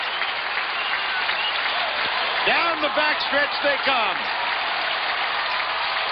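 Spectators at a 1995 two-mile track race applaud and cheer in a sustained roar as runners pass, with a commentator talking over the crowd.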